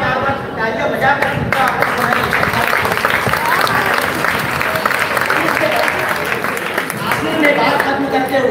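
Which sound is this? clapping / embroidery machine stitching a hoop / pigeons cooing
clapping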